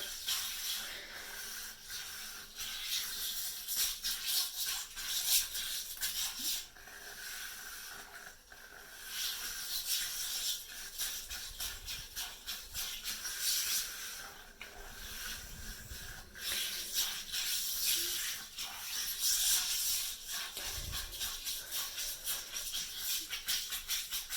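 Close, continuous brushy scrubbing of a toilet bowl with a small scrubber, harsh and hissing like nails on a chalkboard, swelling and easing in steady strokes for the whole stretch, with no talking.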